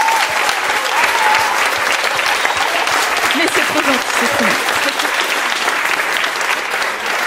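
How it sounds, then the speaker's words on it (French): Sustained loud applause from a French-speaking audience at a live podcast recording, clapping steadily for volunteers, with a voice speaking over the clapping throughout. "faites-leur un tonnerre d'applaudissements là maintenant."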